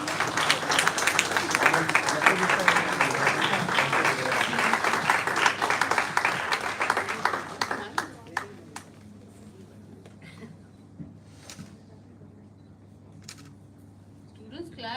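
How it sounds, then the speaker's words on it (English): Applause from the audience at an international conference award ceremony, dense clapping for about eight seconds that thins into a few scattered claps and then near silence. "So, work the appreciation and applause."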